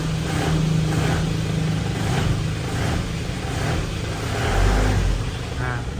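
A 2009 Isuzu Panther Grand Touring idles outdoors, its diesel engine giving a loud, steady rumble with slight rhythmic pulsing and a brief swell near the end, heard close from outside the car with no talk.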